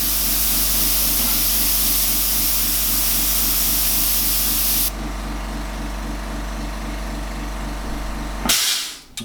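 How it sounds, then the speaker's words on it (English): An airbrush sprays a fine paint mist from about three inches away, a continuous loud airy hiss that drops in level halfway and cuts off near the end, with a faint mechanical hum beneath. "look at the distance my airbrush is out. I'm about 3 inches away now just to get the mist."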